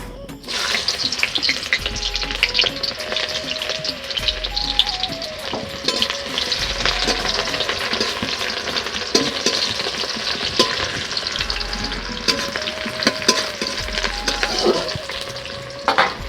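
Sliced onions hit hot oil already holding dried red chilies, frying in a pan for ghugni with a continuous sizzle and repeated scraping of a spatula stirring them round, no voices.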